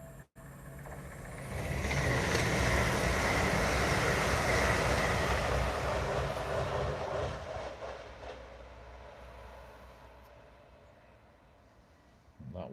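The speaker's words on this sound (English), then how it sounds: "one of the brand new Avanti 805s approaching any second now" A brand new Avanti class 805 passenger train approaches and passes close by, a loud broad rumble and rushing roar that swells over several seconds, holds, then fades as the long train moves away.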